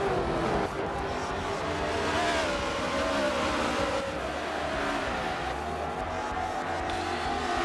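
Race cars at full speed through the esses at Watkins Glen in a sim racing game, a steady loud engine roar with shifting pitch as several cars run close together.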